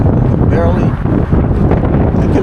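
Strong wind buffets the microphone in a steady, loud rush while a large kite pulls hard on its line over New York City.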